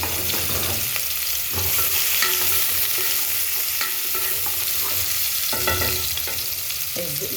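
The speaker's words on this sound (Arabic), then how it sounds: "الزيت بتاعنا قدحناه ورمينا فيه البصل" Onions sizzle and crackle in hot oil while being cooked for okra with minced meat, a steady bright frying hiss broken by scraping stirs, with no voices over it.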